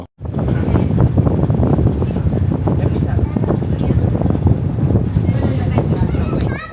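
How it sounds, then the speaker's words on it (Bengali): Strong wind buffets the microphone on the open deck of a passenger launch, a loud continuous rumble with flapping gusts, while people talk over it. "এই বাতাসে ফটফট তো সাউন্ড।"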